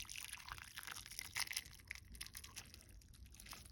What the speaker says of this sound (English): pour my ramen into the bowl